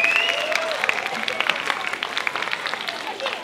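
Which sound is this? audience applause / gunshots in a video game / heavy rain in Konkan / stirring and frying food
audience applause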